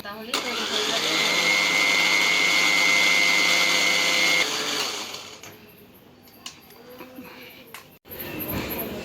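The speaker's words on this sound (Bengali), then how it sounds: "ব্লেন্ডার করে নিব" An electric blender whirs loudly and steadily for about four seconds while oil is blended into a homemade mixture, then cuts off, leaving quieter kitchen sounds.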